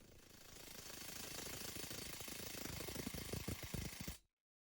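A modified Parkside impact driver hammers a nut tight at its second mode setting, a loud, continuous rapid rattle of impacts running about four seconds, then stopping abruptly into silence.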